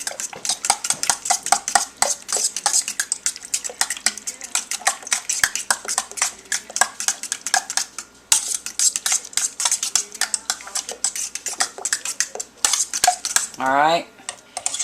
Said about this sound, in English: we'll once again use the fork to mix it up so that we can get it all